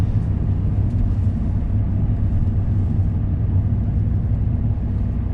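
Hyundai i20 car driving on a test drive, heard from inside as a steady low engine and road rumble that holds constant throughout, with no talking.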